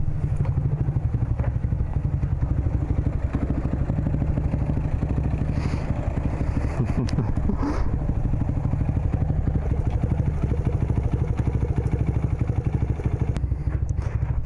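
Honda Grom motorcycle fitted with a double exhaust running, a loud, steady, close engine drone with a rapid pulsing throb and occasional clatter, no voices.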